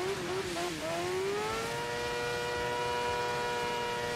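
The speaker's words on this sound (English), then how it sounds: "that truck sounds badass" A white truck's engine in the Dirt 5 racing video game revs and rises in pitch, then holds a steady high drone, loud and continuous with no voices over it.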